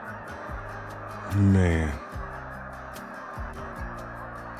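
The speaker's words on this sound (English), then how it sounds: "Thousands and thousands of geese." A flock of thousands of geese honking, a steady chorus of calls from nearby with one loud honk standing out midway, while someone speaks briefly over it.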